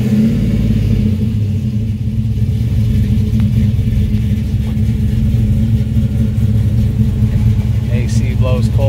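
A built LS7 V8 making 650 horsepower in a 1970 pro-touring Chevelle rumbles loud and close at a steady, lumpy idle, with a voice briefly speaking over it near the end.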